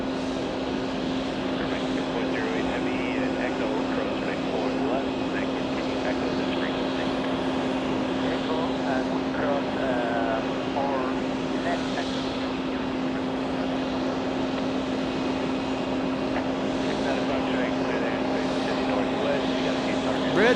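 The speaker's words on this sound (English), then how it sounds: "And Qatar Airways, 777. Also a departure on 4 left." Qatar Airways Boeing 777 departing from JFK, a constant engine drone with a steady low hum, moderately loud and distant, under ongoing conversation.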